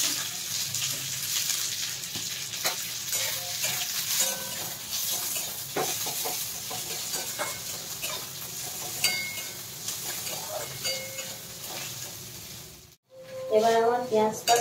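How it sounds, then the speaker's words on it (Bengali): Onions fry in mustard oil in a kadai, a soft, steady sizzle broken by scattered clinks and scrapes of stirring, with a brief pause and a sharper burst of sizzling near the end. "আমি কড়াইতে পেঁয়াজগুলো দিয়ে দেবো,"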